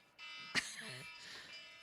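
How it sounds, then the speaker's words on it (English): A loud electronic alarm tone starts abruptly and holds steady for over a second, a sharp click or bump partway through, with a brief voice sound mixed in. "This alarm is to tell us that it's time for the podcast to be over."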